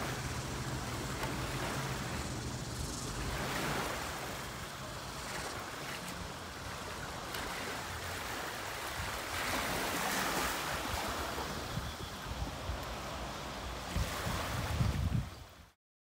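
Surf washes steadily onto Sairee Beach on Koh Tao, Thailand, a continuous broadband rush with gusts of wind against the microphone and no voices throughout.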